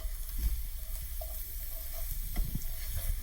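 Scrambled eggs fry in a hot pan, with a soft continuous sizzle broken by the scrape and clatter of stirring and pushing at irregular intervals, close and fairly quiet.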